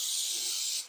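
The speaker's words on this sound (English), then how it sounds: "Just doing the bottom first. Quick spray, quick spray." An aerosol primer can sprays a Warhammer Daemon Primarch Lorgar miniature in one steady, close hiss lasting nearly a second, then cutting off abruptly.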